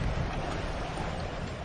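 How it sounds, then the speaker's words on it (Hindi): Strong wind blowing in a Hindi-dubbed Shin-chan cartoon, a steady, dense rushing roar that fills the short span evenly with no voices. "कितनी तेज हवा चल रही है।"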